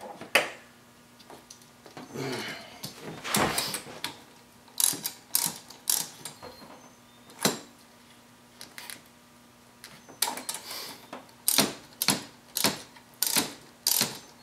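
Clamps being tightened on silicone intake tubes in the engine bay of a 2008 Nissan 350Z, heard as repeated close ratcheting bursts and metallic clicks in irregular groups, with quiet pauses between.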